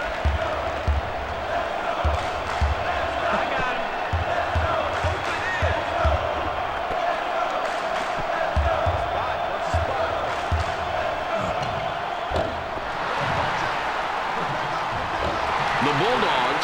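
A basketball crowd roars in ESPN College Hoops 2K4 during a Fresno State Bulldogs game, a steady wash of cheering and clapping with faint ball bounces, running the whole time under a commentator's voice.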